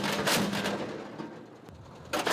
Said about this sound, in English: And then the order comes to open fire.